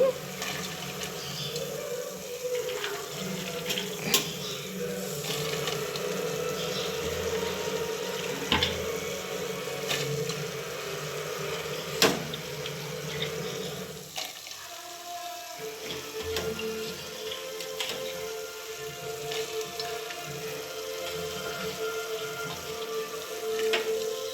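Avare lentils being washed under running water for Karnataka village-style sambar, a steady close rush of tap water splashing into a vessel, continuous with a few sharper clinks, while faint voices murmur in the background.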